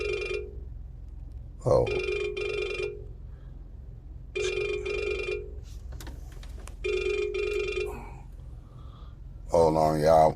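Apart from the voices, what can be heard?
telephone ringing with an incoming call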